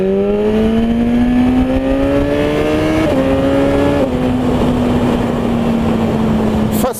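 A BMW S1000RR motorcycle with an aftermarket exhaust drones loudly and close up while riding, its engine note climbing steadily through the gears with quick shifts and a brief final blip.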